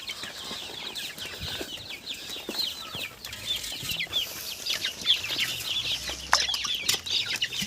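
Chickens cluck and chatter continuously nearby in cages in a yard, a busy overlapping flock with occasional wing flaps and no talking.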